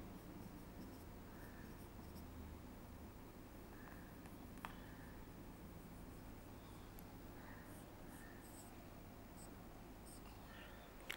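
Pen or marker writing on a board or paper during an organic chemistry lesson on ketones, a soft continuous scratching close by over steady room noise with faint voice traces.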